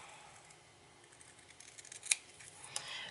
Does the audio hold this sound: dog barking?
no